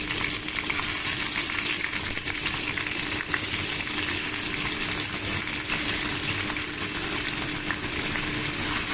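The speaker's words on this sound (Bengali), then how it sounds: "এবারে কিছু কুচি করে কেটে রাখা আলু আমি দিয়ে দেবো তার মধ্যে।" Chopped potatoes dropped into hot oil in a pan, with a loud, steady frying sizzle and hiss that runs without a break the whole time, close to the listener.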